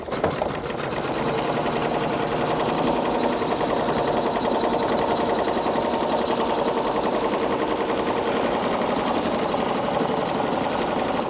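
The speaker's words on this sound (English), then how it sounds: "It's first doing a nice underlay stitch, and now it's doing a stitch to just hold the edges of the applique fabric down" Embroidery sewing machine sewing a satin stitch around an appliqué shell on a baby blanket, running as a steady, fast, loud mechanical chatter without pause.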